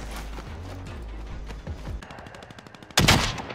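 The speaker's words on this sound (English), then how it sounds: "Taking fire!" Gunfire in the video game Warzone, rapid bursts of shots crackling in quick succession with a louder, denser volley near the end; no speech over it.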